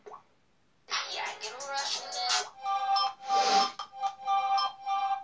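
Phone notification tones chime from a handset, with bright, short tonal pings repeating in quick succession after a quiet start, mixed with a person talking.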